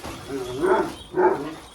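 Hungry dog on a farm making two short, loud barks about half a second apart, close by during feeding time, with no one talking.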